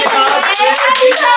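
Close, loud applause from a small group of hands clapping rapidly for the announcement of a game challenge's final winner, with voices mixed in.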